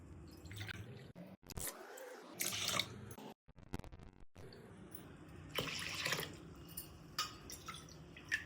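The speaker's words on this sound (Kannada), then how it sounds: "ಅದಕ್ಕೆ ಅದೇ ಗ್ಲಾಸ್ ಅಳತಿಗೆ ಒಂದು 6ರಿಂದ 7 ಗ್ಲಾಸ್ ನೀರು ಹಾಕೋರಿ." Water is poured from a glass onto rice and moong dal in a pot for khichdi, coming in several separate splashing pours with short pauses and drips between them.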